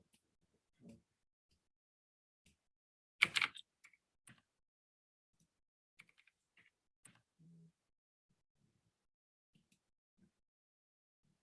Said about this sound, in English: so I'm just typing something